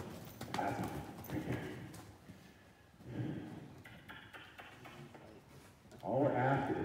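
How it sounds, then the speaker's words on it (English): A horse's hooves clip-clop at a steady walk while it circles in an arena, near and clear, with brief bursts of louder movement. "All we're asking is this horse to walk in a circle."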